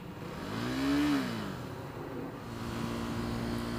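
A KTM RC390 motorcycle pulling in second gear, its engine tone rising as it accelerates, then dropping into a steady drone under wind noise, heard from the rider's position.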